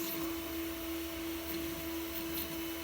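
A 3D printer running on its own with a heated bed and moving print head, giving a steady, even mechanical hum with a constant tonal whine, heard alone and close.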